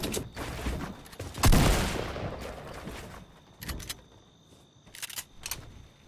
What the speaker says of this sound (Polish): Znowu do mnie strzela, widzicie?